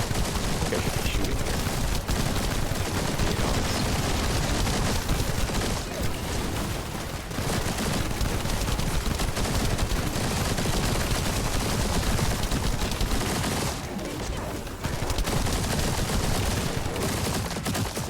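Dense, continuous automatic gunfire in the video game The First Descendant, loud rapid bursts with brief pauses, running almost unbroken throughout and at times overlaid by a speaking voice.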